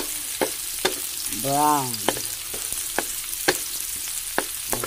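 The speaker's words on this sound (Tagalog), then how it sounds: "haluin lang natin yan guys" Ingredients for fish escabeche sizzle in a pan while a utensil stirs and scrapes in sharp, irregular taps, and a brief voice is heard partway through.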